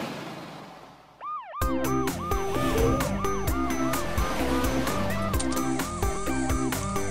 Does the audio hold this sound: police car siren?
yes